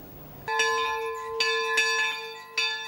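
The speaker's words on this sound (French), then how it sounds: "Le dernier coup de cloche annonce le début imminent de la messe." A church bell tolls before Mass on the August 15 Assumption holiday, loud and ringing, with three or four strikes whose resonant tones hang and overlap.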